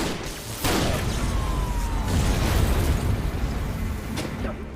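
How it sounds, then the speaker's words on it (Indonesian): A sudden loud burst in a Korean crime drama scene breaks out early and is followed by a sustained rumbling, crackling roar that suggests a gunshot giving way to fire and chaos, with no voices. "tiba-tiba terdengar suara tembakan."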